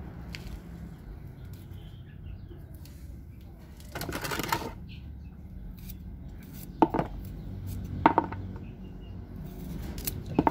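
Several sharp knife strokes chop herbal jamu ingredients against a board at irregular intervals, faint and close, over quiet room tone.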